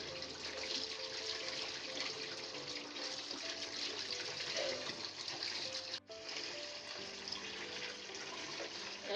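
Tomatoes are rinsed under running water, giving a quiet, continuous splashing and trickling with a brief break partway through.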